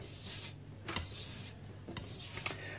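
A knife is drawn repeatedly across a flat, freshly resurfaced whetstone. Three or four bright scraping strokes come in a steady back-and-forth rhythm, close and alone.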